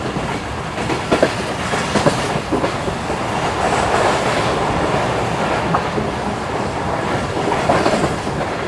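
Karakoram Express in a new rake racing at high speed between Karachi and Rohri, a steady loud rumble with rhythmic clickety-clack of wheels over rail joints and faint wheel squeal, no voices.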